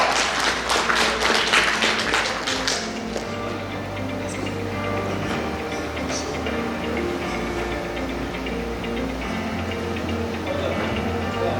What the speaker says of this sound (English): a big round of applause for Dr.